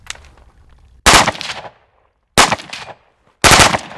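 An FN P90 fires three short full-auto bursts outdoors at a range, each loud, sharp and rapid, separated by silent gaps of about a second.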